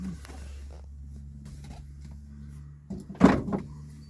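A quiet idling hum runs under a few soft clicks, then a single solid thump of a car's back door closing near the end.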